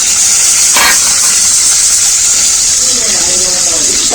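Tomato tipped into a pan of frying onions, a strong continuous sizzle and hiss with a short sharper burst near the start.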